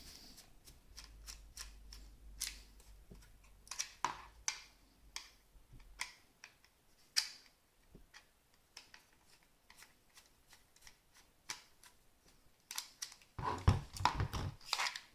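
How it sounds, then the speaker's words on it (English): Small screws are undone from a Kydex knife sheath, giving a run of sparse, close, dry clicks and ticks in a quiet room, with a busier burst of clicking near the end. "All I do is undo these screws."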